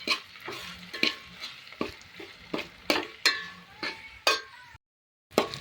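Pasta being stirred with chutney and salt in a pan, a spoon scraping and knocking against the metal in a steady run of sharp strokes, with a faint sizzle underneath and a brief pause near the end.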